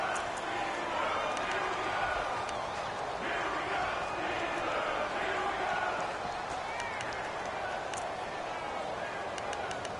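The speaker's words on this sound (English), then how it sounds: "the crowd getting into it as we come up on a big third down" A stadium crowd cheers in an American football video game on PS4, a broad steady roar of noise that runs under continuous play-by-play commentary.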